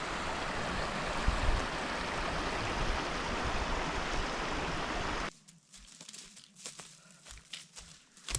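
A river rushes under a bridge on a hiking trail, a loud, continuous broadband flow that cuts off abruptly partway through, leaving quieter scattered crinkles and footstep-like sounds.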